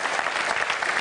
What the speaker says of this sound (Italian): Un applauso a Tabata.